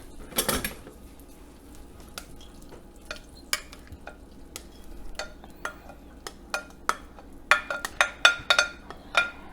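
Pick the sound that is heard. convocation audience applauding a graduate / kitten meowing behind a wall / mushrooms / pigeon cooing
mushrooms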